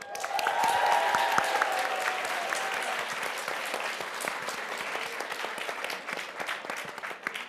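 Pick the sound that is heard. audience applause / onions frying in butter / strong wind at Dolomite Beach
audience applause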